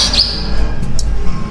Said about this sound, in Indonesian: Banyak dari depan sampai belakang ada burung.